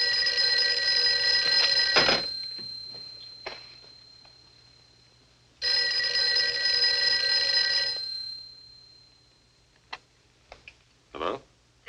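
A telephone rings indoors in a 1948 drama, two long loud bursts of ringing a few seconds apart, followed by faint clicks and handling sounds.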